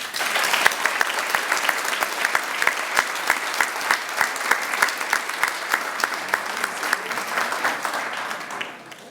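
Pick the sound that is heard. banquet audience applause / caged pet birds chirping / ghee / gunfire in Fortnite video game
banquet audience applause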